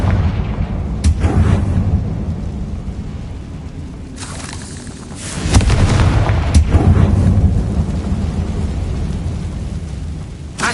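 Confringo fire-spell blasts in Hogwarts Legacy inside a tomb, heavy booming explosions with sharp cracks and rumbling tails, a loud burst near the start and a bigger one midway over a continuous roar.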